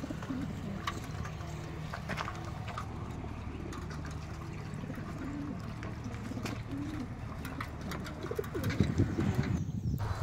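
Racing pigeons coo repeatedly at a liberation site where about 700 birds from around 13 clubs gather, soft low rhythmic coos layered over one another in a steady background with occasional light rustling and splashing.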